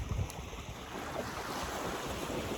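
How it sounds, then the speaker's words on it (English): Wind at the beach buffets the microphone with a low, rough rumble, mixed with a broad hiss like surf, steady and moderately quiet. "It's a little windy out"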